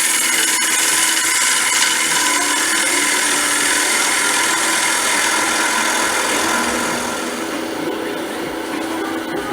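Woodturning lathe with a cutting tool making a final pass on a spinning wood blank, a steady loud hissing scrape over motor hum that eases slightly near the end, with no talk.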